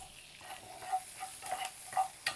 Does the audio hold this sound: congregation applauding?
no